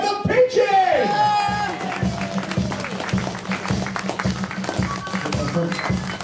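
Audience applause and cheering for a band at a Coventry Music Wall of Fame event, a steady crowd roar with whoops under someone speaking over a microphone.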